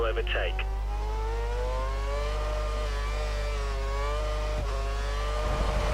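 A Lotus Formula 1 car in F1 2013 holds a steady, loud high engine whine that rises and dips slightly as the car slides with little rear grip, with someone talking over it throughout.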